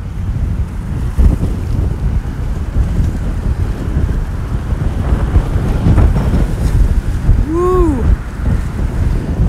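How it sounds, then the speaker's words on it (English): Strong wind roars steadily into the microphone during an outdoor sunset ride, a continuous heavy buffeting throughout, with a short voiced whoop near the end. "I tell you, this wind is really, really picking up."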